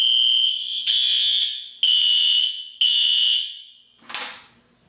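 A Fire-Lite MS-9200UDLS fire alarm panel sounds its alarm: a loud, piercing electronic tone repeats in three long blasts, each fading away, and is followed by a short sharp chirp.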